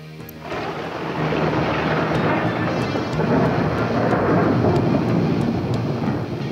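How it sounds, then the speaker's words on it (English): Thunder sound effect triggered from a lightning button on a radio show, a sudden crack followed by a loud, sustained rolling rumble that fills the clip with no talk. "Hit the lightning button by accident."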